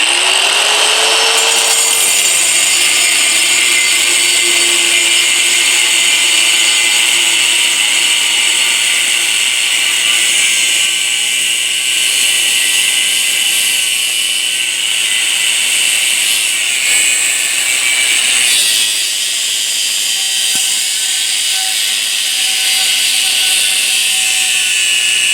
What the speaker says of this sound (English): I got a new abrasive wheel on here